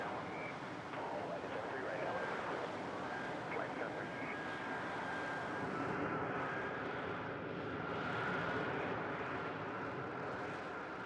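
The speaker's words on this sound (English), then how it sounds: "The new F-35B avoids the complexity of a catapult and arrestor" F-35B fighter jet engine roaring aboard an aircraft carrier, a steady loud jet rumble and whine that holds through the whole span, with voices faintly under it.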